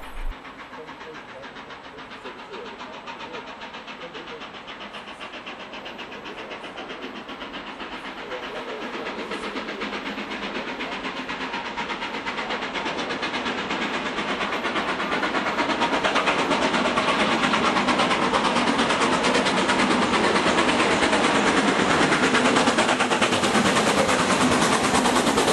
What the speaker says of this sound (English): the Pathfinder's Bristolian tour from Bristol to London hauled by GWR King Edward I